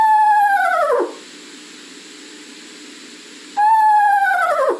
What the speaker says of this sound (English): the sound of it sounds like a whinny, or what a horse would sound like